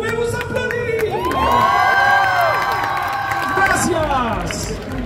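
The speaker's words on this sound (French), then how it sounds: "À titre exceptionnel, vous pouvez vous applaudir." Festival crowd at a Japan-themed event cheering and shouting over music, with whoops and excited voices swelling and fading.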